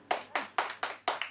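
Six sharp hand claps from a comedy club audience land in a fairly even rhythm, close and distinct, with no talking over them.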